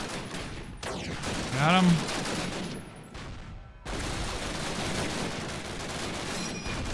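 Rifle gunfire in the Call of Duty video game, with a loud, dense burst of shots and battle noise filling the whole stretch while a voice speaks briefly over it.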